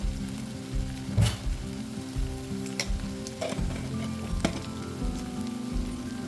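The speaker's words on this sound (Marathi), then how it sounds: "आता हे सर्व मसाले आपण चांगले परतून घेऊया या भाजीसोबत" Turmeric, masala and coriander-cumin powder frying with cauliflower and potatoes in a pan: a strong, close, steady sizzle broken by stirring clatter and knocks, with faint tonal sounds underneath.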